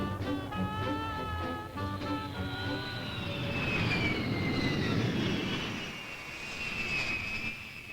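Air Force One jet airliner engines roar steadily and loudly throughout, a broad whining drone with rising and falling tones as the plane taxis or climbs, no voices present.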